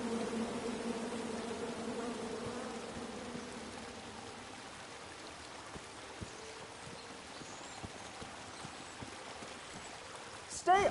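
Bees buzzing in the King's Quest: Quest for the Crown video game, a faint, steady hum under a soft watery wash, with scattered small ticks and a sharper burst at the very end.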